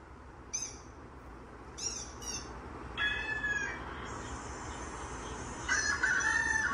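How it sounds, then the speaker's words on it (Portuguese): A rooster crows and a chicken clucks at a childhood home at night: a few short calls early on, then longer drawn-out crowing that comes back near the end, at moderate distance over a low background hiss. "na hora dessa, galinha cocorajando. Cacarejando."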